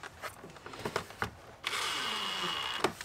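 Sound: power tool driving screws into Rav4 TRD grille

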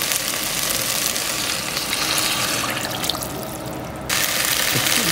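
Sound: water being poured into pot of curry vegetables

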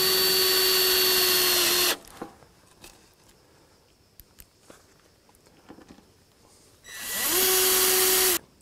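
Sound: power screwdriver driving screws into terrace structure

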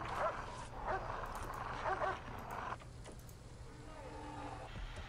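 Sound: dogs in kennels barking in the video game Prison Architect

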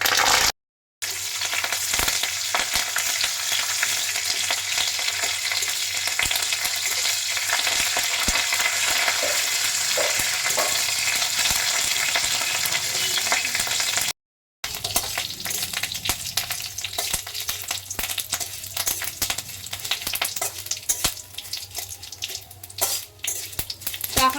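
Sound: black mustard seeds and curry leaves sizzling in oil

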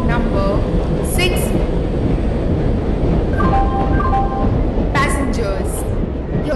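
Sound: passenger express train arriving at platform, Indian Train Simulator video game

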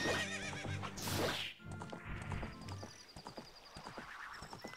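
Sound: horse Epona neighing in Zelda: Ocarina of Time video game

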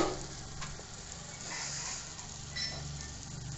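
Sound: ginger garlic paste sizzling in pan for chicken gravy

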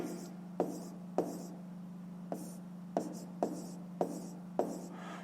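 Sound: writing numbers by hand

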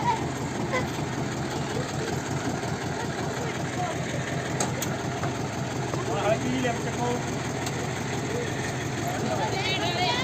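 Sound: tractor engine idling

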